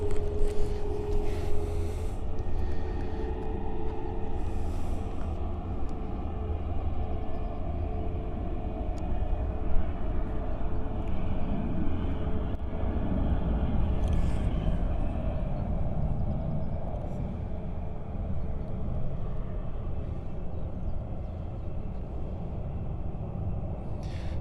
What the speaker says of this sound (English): So that was the TAP flight, Airbus A321 Neo.